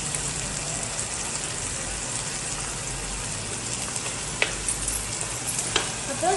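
Paneer Manchurian sizzles steadily in a pan with vinegar, a dense continuous frying hiss with a few brief clinks near the end and no talking.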